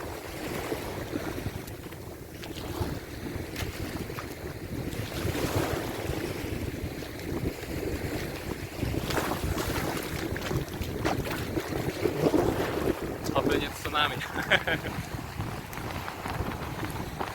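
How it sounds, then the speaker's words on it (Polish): Ocean surf on a wild Dominican Republic beach, a steady roar of waves and wind with a larger swell building in the distance, continuous and fairly loud with no talking. "tam jakaś duża fala w oddali idzie."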